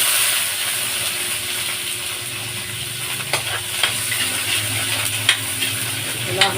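Chopped onions fry steadily in a pan toward golden brown for a Christmas apritada, giving a continuous close sizzle with a few light scraping clicks from stirring near the end.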